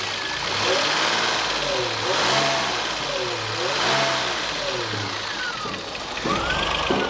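A 30-year-old Renault Safrane V6 biturbo revs repeatedly, its turbos whistling in rising and falling sweeps with each throttle blip, heard close from the rear of the car.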